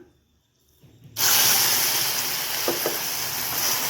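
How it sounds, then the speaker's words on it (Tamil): Water poured into hot, browned caramelized sugar in a pan on the stove: after a near-silent moment, a sudden loud sizzling hiss erupts close up and continues steadily. "தண்ணி ஊற்றிடலாம்."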